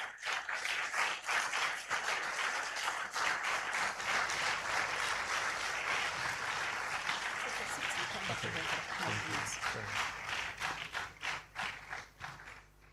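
Sustained audience applause after a university inaugural lecture, a dense roomful of clapping that builds and holds, then thins into scattered individual claps toward the end, with faint voices beneath.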